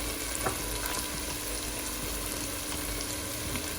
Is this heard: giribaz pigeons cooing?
no